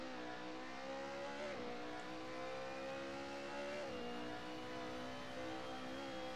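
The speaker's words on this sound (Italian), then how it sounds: "Facciamo godere del sound di queste macchine, ragazzi, guardate che grande." Race car engines whine from a distance at a 2020 Italian Hill Climb Championship round at Monte Erice, a faint sustained high-pitched drone with two rising and dipping shifts as the cars accelerate, heard over a low broadcast background.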